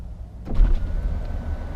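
A Rolls-Royce convertible roof retracts with a steady motor whir and soft mechanical clunks, close and continuous after a short quiet start.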